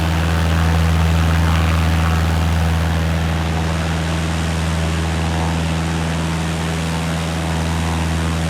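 Steady, loud propeller aircraft engine drone in a flight simulator game at cruise, a constant low hum with a harmonic whine, no talking.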